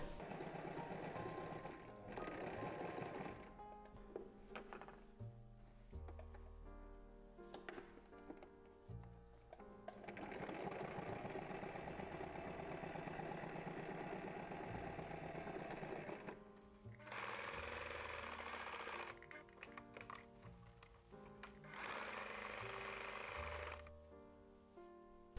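A sewing machine stitches fabric triangles onto the bottom of a burrito-style lunch bag, running in long steady whirring stretches broken by brief stops.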